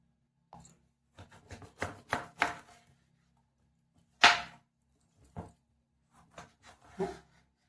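A knife cutting a bottle gourd into pieces on a board, a series of crisp, close chops in irregular clusters with quiet gaps between them.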